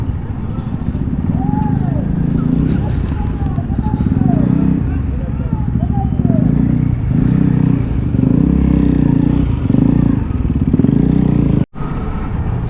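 A motorcycle with tail tidies fitted rides a rough road toward Rajarhat Chowmatha, its engine a steady loud rumble throughout as a rider talks over it, with a brief dropout near the end.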